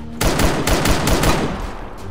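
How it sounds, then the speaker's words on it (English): Automatic gunfire in the video game Arma 3, a rapid burst of loud, close shots that ring out for about a second and a half before trailing off, with no talking. "I just shot him in the back while he's running away."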